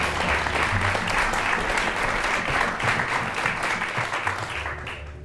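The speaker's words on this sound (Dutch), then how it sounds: "En geef haar een hartelijk applaus." Warm, sustained audience applause in a music café studio welcomes a soprano guest, a thick continuous wash of clapping that fades slightly toward the end.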